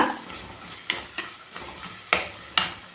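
Ginger and garlic sautéing in a pan for mutton kulambu, a steady close sizzle broken by several sharp scrapes and clinks of a spoon stirring against the pan.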